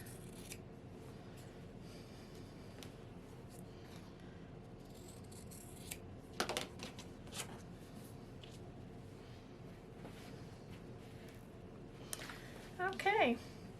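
Scissors clip the corners of a sewn fabric pillow, with a few quiet, close snips spread across a hushed stretch and a quick run of cuts near the end.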